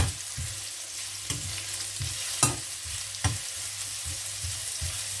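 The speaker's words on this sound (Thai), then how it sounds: "ขั่วขิงให้หอม" Ginger stir-fried in a pan for Thai chicken rice, with a continuous oily sizzle broken by several sharp scraping strokes of a spatula against the pan at irregular intervals.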